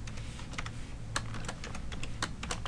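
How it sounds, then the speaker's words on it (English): Password being typed on a computer keyboard, a run of quick, irregular clicky keystrokes with a few sharper taps, close and fairly quiet over a low room hum. "type a password of your choosing, and then click Next. Make sure you type the password twice."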